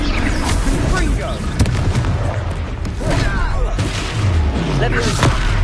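Spell explosions in the Hogwarts Legacy video game during a battle, a dense run of booming blasts and crackling impacts layered over a steady rumble of game score and combat noise, loud and continuous throughout.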